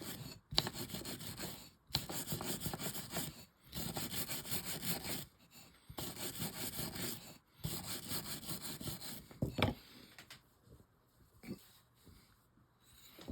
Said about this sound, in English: Take a little bit of wire brush to it.